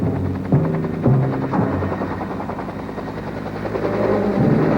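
Military helicopters of the Sky Cavalry in a 1965 Vietnam air assault, rotors thudding loud and steady throughout with a deep engine drone, no talk.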